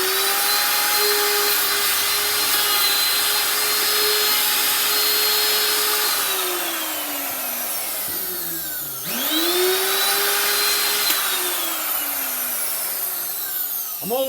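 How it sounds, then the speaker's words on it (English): A half-inch router cuts around the edge of a wooden box, a loud steady whine that dips in pitch under load, winds down, then restarts and spins back up. "I'm gonna use the 1/2 inch router, and I'm just gonna route around that edge"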